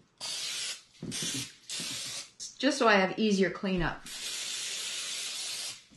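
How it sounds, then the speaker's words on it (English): Pam cooking spray hisses onto a 9x13 baking pan in about four bursts, three short and close together, then one longer steady blast, with a person talking in between. "I'm going to spray my pan with Pam"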